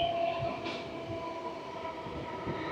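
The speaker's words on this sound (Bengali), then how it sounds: "বাঁকুড়া জংশন প্ল্যাটফর্মে ট্রেনটিকে ঢোকানো হলো।" A passenger train pulls into the platform at Bankura Junction, with a steady, fairly distant rumble of rolling wagons and a thin metallic tone from the wheels, and no voices.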